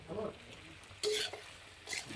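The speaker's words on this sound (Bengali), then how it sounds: "সবজিগুলোকে এখন ভালো করে কষিয়ে নেব।" Mixed vegetables being stirred in a pan after fish has been fried, with soft sizzling and scraping bursts of a utensil against the pan, nearby and fairly quiet, no voices.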